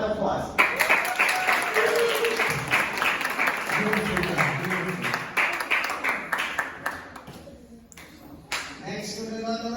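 Students and families clap in a round of applause at a seventh grade Sukkah fair, a dense patter of many hands that swells and then thins out toward the end, with voices murmuring underneath.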